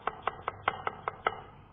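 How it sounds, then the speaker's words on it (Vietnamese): A knife minces onion on a cutting board in a kitchen, eight quick, evenly spaced chopping taps, close and crisp with no voices. "Chúng ta cắt cái phần gốc và sau đó băm nhuyễn ra."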